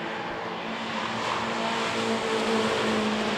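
BMW Compact Cup race cars roar around the Donington GP circuit, with a steady, loud engine drone and slowly rising pitch as several cars battle closely together.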